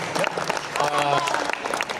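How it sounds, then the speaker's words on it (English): An audience at a footbag routines panel gives the panelists a round of applause, a dense patter of clapping that runs about two seconds while a voice talks over it. "Let's get a round of applause for Evan, Alexei, and Nick."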